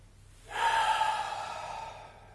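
A strong, drawn-out breath taken during a vinyasa yoga flow, one airy inhale starting abruptly and lasting nearly two seconds, close and fairly loud, gradually tapering with no talking.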